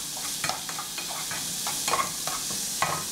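Cabbage fries in a modest amount of extra virgin olive oil, crackling and sizzling steadily while a spoon stirs and scrapes the pan in irregular strokes, close by and without talk.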